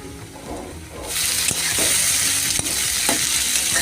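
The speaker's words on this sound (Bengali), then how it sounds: "এভাবে নাড়াচাড়া করে পেঁয়াজের সাথে টমেটোটা মিশিয়ে নেব।" Chopped tomato and onion being stirred in a frying pan, a steady sizzle that swells louder partway through, with sharp spatula scrapes and clicks against the pan.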